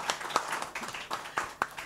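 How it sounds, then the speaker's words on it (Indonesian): Scattered hand claps for Ulfa, a young singer, at an Indonesian talk gathering, a handful of sharp separate claps from a small group, fairly close and not very loud. "Kita tepuk tangan untuk Ulfa"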